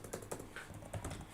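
Fast, uneven clatter of keys typed on a computer keyboard while entering data into an Excel workbook, close and fairly quiet, with no talk.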